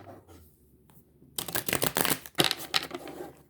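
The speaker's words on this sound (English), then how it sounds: "Let's shuffle it a couple of times." A quick, crisp riffle of tarot cards being shuffled, close and fairly quiet, following a near-silent pause.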